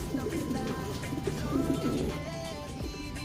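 Racing pigeons cooing at feeding time in a loft, soft repeated low coos overlapping with some rustling and faint chirps, close by.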